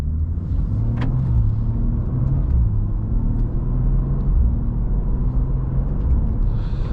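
A 2025 BMW M2 pulling away, its engine a steady, close low rumble with a rising drone as it accelerates, heard alone with no talking.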